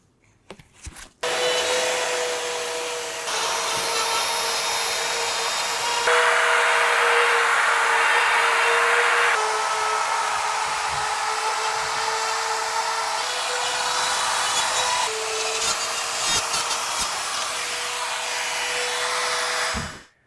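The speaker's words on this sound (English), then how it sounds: "making a cut into drywall here for an outlet box" A drywall cutout tool cutting into drywall for an outlet box, a loud continuous high-pitched motor whine with grinding hiss that shifts slightly in pitch as it bites, running steadily for nearly twenty seconds before stopping.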